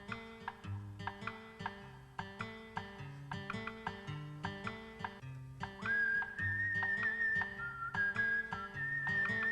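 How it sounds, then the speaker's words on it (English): A tune whistled over plucked, bouncy music, the thin melody entering partway through and carrying on to the end. "he's whistling a little cowboy tune"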